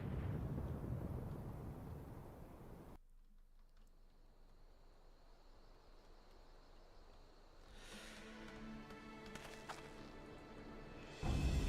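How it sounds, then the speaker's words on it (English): A tower collapsing in the video game Final Fantasy XIV: a deep rumbling roar that cuts off, a quieter stretch, then crashing debris and a heavy final impact, booming and distant-sounding. "The main tower just collapsed."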